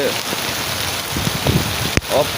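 Steady rainfall hissing on surfaces in Dhaka city, heard alongside brief speech sounds and a sharp click near the end.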